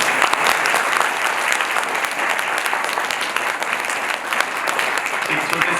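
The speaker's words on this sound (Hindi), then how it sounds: "भी ये तालियां पर्याप्त नहीं थी।" An audience at the Arya Samaj annual festival in Agra gives loud, sustained applause: a dense wash of clapping that holds steady for several seconds with no clear break.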